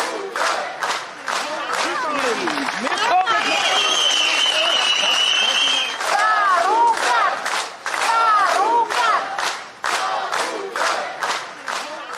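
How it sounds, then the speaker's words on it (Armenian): Supporters of Prodemocratic Armenia party leader Gagik Tsarukyan greet him on a crowded street with loud, continuous cheering, applause and chanting. A whistle-like tone rises briefly through the middle of the dense crowd roar. "ԲՀԿ առաջնորդին աջակիցները դիմավորեցին բուռն ծափերով, վանկարկումներով"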